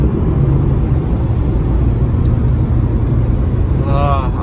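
Steady low road rumble from inside a car driving along, loud and constant, with a faint brief tone near the end.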